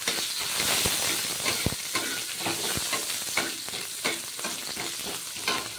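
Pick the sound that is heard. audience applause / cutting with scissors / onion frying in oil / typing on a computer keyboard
onion frying in oil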